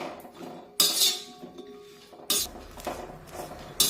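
Green chillies stirred while roasting in a pan for a spicy chilli thecha, with sharp metallic clanks of a spatula against the pan in irregular bursts over a faint background.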